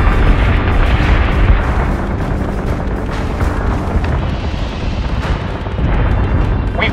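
Ship weapons in Battlestar Galactica Deadlock, with heavy continuous barrages of booming cannon fire and explosions rumbling loud and dense, with no break for the whole stretch.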